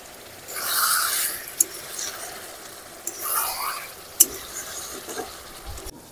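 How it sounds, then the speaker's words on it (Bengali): Mutton pieces with liver sizzle and hiss while being stirred in rendered fat and oil, a steady frying wash broken by a few sharp spatula scrapes and clinks against the pan. "আচ্ছা, মাটনটা কষা হচ্ছে"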